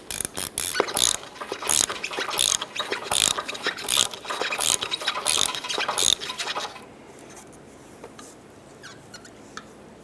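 A ratchet tightens the front strut assembly on a 2008-2012 Honda Accord in a quick series of sharp, rhythmic clicking strokes, up close and loud, then stops, leaving faint handling noise.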